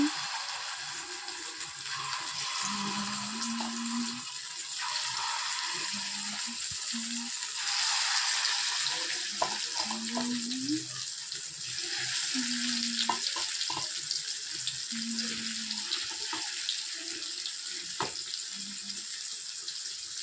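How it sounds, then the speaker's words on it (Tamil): Fish frying slowly over low heat in a pan, giving a soft, continuous sizzle with occasional clinks and light kitchen clatter. "மீன் ஃப்ரை பண்ணிடலாம்."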